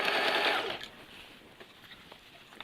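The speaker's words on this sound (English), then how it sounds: "Gather it along and sew along." Sewing machine stitching gathered skirt fabric onto a waistband, a loud steady motor whir for the first three-quarters of a second, then stopping into quiet handling sounds.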